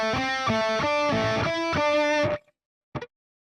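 Distorted electric guitar plays the opening measure of a theme, a quick run of picked notes for about two seconds, then cutting off before one short plucked note.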